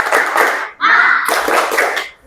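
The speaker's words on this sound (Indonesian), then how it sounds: "Oke, tepuk semangat." A school class does a rhythmic spirit clap in unison, with dense bursts of group clapping broken by a brief pause, and voices mixed in.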